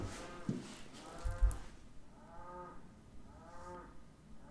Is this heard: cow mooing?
yes